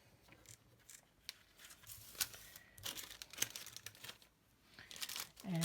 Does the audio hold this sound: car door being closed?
no